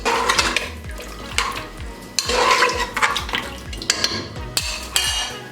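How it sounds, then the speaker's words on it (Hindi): A spoon scrapes and clinks against a pan while mutton chops are mixed with water, salt and ginger-garlic paste, a close run of irregular metallic knocks and wet sloshing strokes, no talking. "इसको अच्छे से मिक्स कर लेंगे।"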